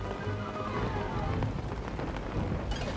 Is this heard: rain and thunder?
yes